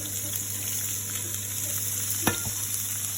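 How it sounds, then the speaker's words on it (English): Carrots, green peas and fresh beans fry in a pan for coconut milk vegetable rice, giving a steady close sizzle with one brief stirring scrape near the end. "here we have to fry all vegetables"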